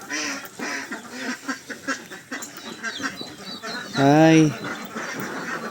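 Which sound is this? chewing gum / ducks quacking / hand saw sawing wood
ducks quacking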